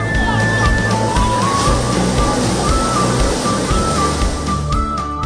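Sea waves washing onto a narrow, eroded shore where the water has come far up the beach, a loud continuous rushing roar with a faint tonal whine running through it.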